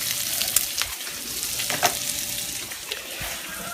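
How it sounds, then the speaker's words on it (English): Sausages and bacon sizzling in a pan for breakfast, a loud, steady, hissy frying crackle with a few sharper pops, close by and without talk. "Making some breakfast because breakfast is good. Sausages and bacon and scrambled eggs."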